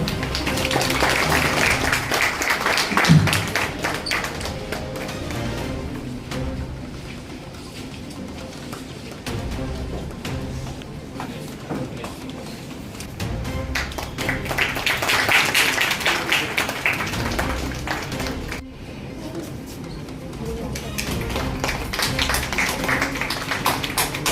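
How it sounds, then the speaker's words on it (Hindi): Students being honoured at an Allen Career Institute felicitation ceremony in Siliguri clap in a sustained round of applause that rises and falls in two louder swells across the clip. "प्लीज बच्चों आप लोग तालियां बजाते रहें।"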